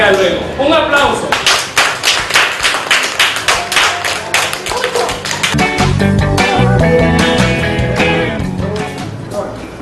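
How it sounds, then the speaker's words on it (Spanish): Students in a classroom clap together after a lesson exercise, a dense run of sharp hand claps that continues steadily at close range, with voices and other sounds mixed in. "Un aplauso."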